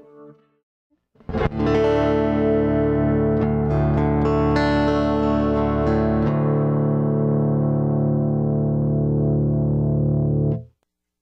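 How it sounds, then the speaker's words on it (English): A sustained, buzzy synthetic chord from an Electro-Harmonix Iron Lung vocoder pedal, with a robotic, harmonically rich tone, rings steadily for about nine seconds, then cuts off abruptly. "This is the sound of the electro harmonix Iron Lung Vocoder pedal."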